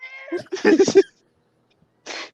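A cat meows several times in quick, close, clear cries, followed after a short silence by one more brief meow.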